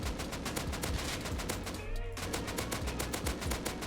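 Rapid automatic AK rifle spray in the Rust video game, a dense continuous rattle of gunfire that stays loud and steady throughout, with a brief high swishing sound near the middle.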